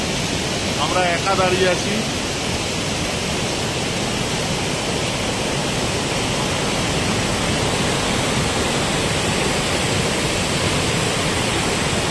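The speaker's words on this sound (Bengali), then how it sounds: "দেখুন ওপর থেকে একদম জলের গতি।" A waterfall in Meghalaya rushes with a loud, constant roar of falling water, and a person briefly speaks near the start over the steady noise.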